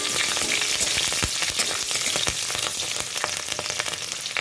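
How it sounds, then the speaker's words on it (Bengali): Green chilies and tempering spices fry in hot oil as a dense, continuous close sizzle and crackle, with scattered sharp pops throughout. "ছিঁড়ে রাখা কাঁচা লঙ্কা দিয়ে দিলাম।"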